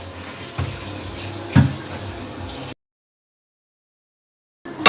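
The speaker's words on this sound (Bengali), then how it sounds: "ওই পরিমাণ মতো পানিটা দিয়ে দিলাম অল্প একটু" Water poured into a pan of frying chicken and whole quail for a spicy dry fry, a short splashing burst with a brief louder splash, then silence and a faint clatter at the end.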